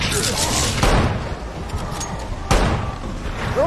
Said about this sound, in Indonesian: Saat itu, Bill sempat terkena tembakan dan Frank dengan cepat menyelamatkannya.